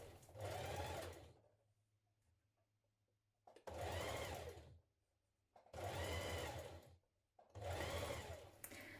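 A sewing machine stitches the curved seam of a fabric teddy bear in three or four close, steady bursts of whirring, with brief quiet pauses between runs.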